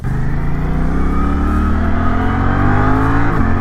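A Suzuki GSX-8S motorcycle engine revs hard and steadily climbs through the rev range, loud and close, with a quick-shifter gear change near the end.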